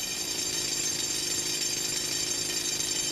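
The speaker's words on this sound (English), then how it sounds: "Always keen, Kurban takes charge of the pneumatic drill" A pneumatic drill runs continuously while digging for jade, a steady, dense, hissing mechanical roar that stays close and unbroken with no pauses or talk.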